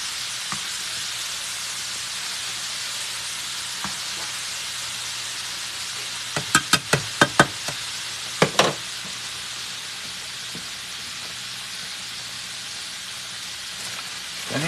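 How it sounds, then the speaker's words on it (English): Chicken livers fry hot and fast in a pan, a steady close sizzle with a few brief louder spatters and pops partway through. "Fry hard and fry fast."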